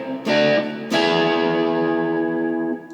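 Electric guitar, a Squier Classic Vibe Starcaster, through a Joyo US Dream distortion pedal set to low gain with tone fully clockwise. Two strummed distorted chords sound close and loud, the second ringing out and slowly decaying.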